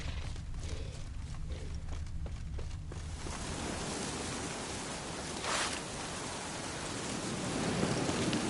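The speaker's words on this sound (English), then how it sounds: "Looks like rain." Steady rain pours down in The Witcher 3, a dense even hiss of drops that grows heavier and fuller after the first few seconds, with no voices over it.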